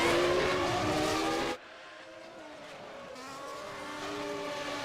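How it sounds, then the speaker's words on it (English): In a 1991 Formula 1 racing video game at the German Grand Prix, a race car engine wails loudly while locking its brakes into a corner, then cuts off abruptly, leaving a lower, quieter engine drone. "Grant got all crossed up on the brakes going into Bremskurve 1 and just about held on."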